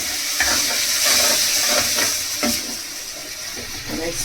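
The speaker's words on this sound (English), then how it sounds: "I'm going to add some water, but this is optional." Water is poured into tomato egg pepper masala frying in a non-stick kadai, giving a close, steady sizzle and hiss broken by a few soft stirring taps, with no talking.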